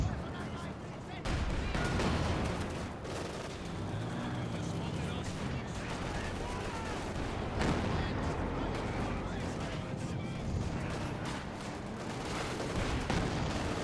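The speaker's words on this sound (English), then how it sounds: "Mortarfall landing there" Mortar rounds and tank cannon fire from a Company of Heroes 2 real-time strategy match. Repeated blasts and explosions play under continuous commentary.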